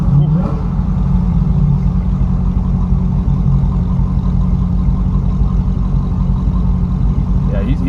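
A Dodge Challenger Hellcat with resonator deletes and stock mufflers rumbles at a low, steady, boomy idle close by, with a continuous deep drone and slight fluctuations, while people talk over it.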